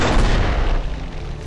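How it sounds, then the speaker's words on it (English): Explosion in the video game Fallout: New Vegas: a loud, sustained rumbling blast that fills the whole clip with dense, booming noise and eases slightly toward the end. "In an explosion of fire, death, and doom."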